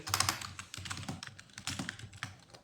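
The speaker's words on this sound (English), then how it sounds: "if I were to type here" Typing on a computer keyboard: a quick, steady patter of soft key clicks, close and fairly quiet, with no talking.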